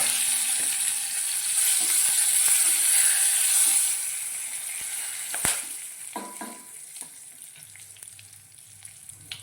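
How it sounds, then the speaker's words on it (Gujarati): Cumin seeds and whole spices sizzle in hot ghee for spinach khichdi, a bright steady frying hiss that quiets after a few seconds, followed by occasional stirring clinks and taps. "ઘી ગરમ થઈ ગયું છે, તેમાં આપણે જીરું એડ કરીશું"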